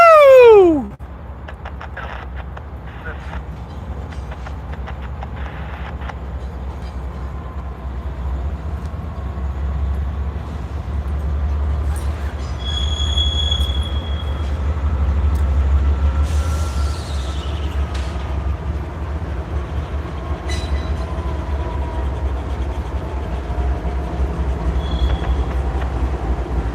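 A Norfolk Southern heritage locomotive, NS8114, rolls past with a continuous heavy low rumble of wheels and railcars, with occasional metallic squeals and clanks over the long steady passage, after a brief loud opening burst.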